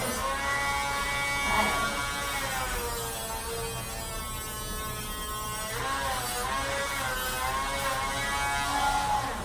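Dremel rotary tool grinding a dog's nails during grooming, a close steady electric whine that rises and falls in pitch as it presses against each nail.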